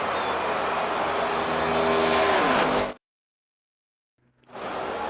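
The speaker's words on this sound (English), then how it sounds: "engines roar from the high banks of the world-famous track" Race car engines roar at Daytona's high-banked speedway in the NASCAR 25 video game, a loud sustained thunder with rising revs, cutting to silence for over a second before the roar returns.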